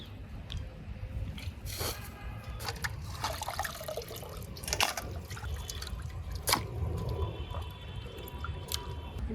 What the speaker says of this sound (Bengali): এখান থেকে ধুয়ে নিয়ে যাচ্ছি একদম বেশি করে জল দিয়ে খলো খলো করে ধুয়ে নিচ্ছি